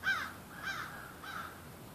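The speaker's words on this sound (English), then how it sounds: "Hear the crows." Three harsh crow caws at a steady spacing, each a loud, ragged call with a gap before the next, heard outdoors against a quiet background with no talking.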